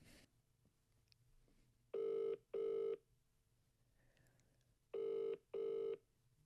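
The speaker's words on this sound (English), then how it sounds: "I'm ringing Maria" Outgoing phone call ringing out, heard as two pairs of long, loud electronic ring tones with a quiet pause between, alone over faint room background.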